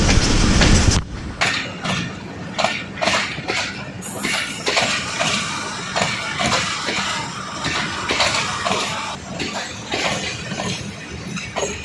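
A train passes close through a railway station, its wheels clattering in a steady clickety-clack with metallic clinks and occasional squeal, loud and continuous.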